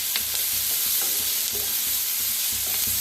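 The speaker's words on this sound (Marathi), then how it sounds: "ह्याच्यात थोडंसं तेल वतून फ्राय करून घेऊया" Onion and green chillies fry in a little oil with a constant loud sizzle, punctuated by repeated rhythmic scraping stirs of a spatula in the pan; no voice is heard.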